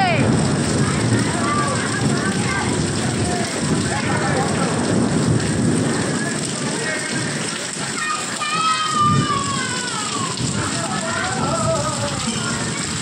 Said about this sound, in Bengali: আর যেমন বৃষ্টি পড়ছিল তেমন বিদ্যুৎও চমকাচ্ছে।